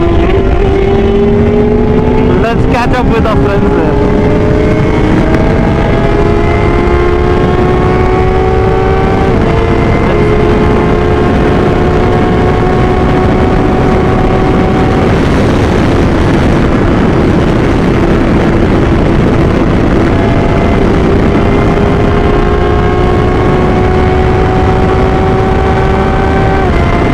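A BMW S1000 XR sport-touring motorcycle engine roars loudly and continuously from the rider's position on a road ride, with rising revs through several gear changes and steady wind noise.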